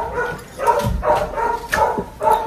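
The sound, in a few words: dogs barking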